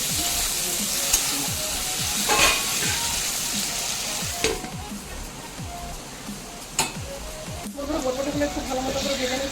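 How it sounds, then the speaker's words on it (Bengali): Long beans frying in a covered pan, a loud, steady crackling sizzle with a few sharp stirring clicks and clanks. "বরবটিগুলো ঢাকা চাপা দিয়ে খুব সুন্দর করে ভেজে নিচ্ছি।"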